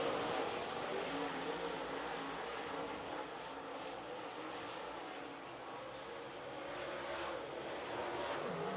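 Super Late Model race cars roar around Cherokee Speedway during a heat race, a continuous distant engine drone that swells and fades as the pack passes.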